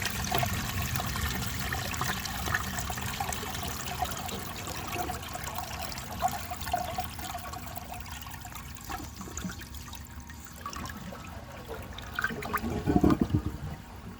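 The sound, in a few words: 1974 Borg Warner toilet flushing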